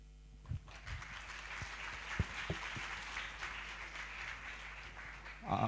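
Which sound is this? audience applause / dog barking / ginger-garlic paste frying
audience applause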